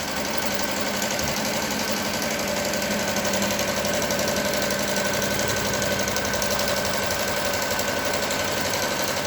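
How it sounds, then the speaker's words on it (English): A Melco EMT 16x embroidery machine stitches a patch with a steady, dense mechanical whir and rapid rattling pulse, loud and close, running continuously without talk. "Now it's going to start the satin stitch."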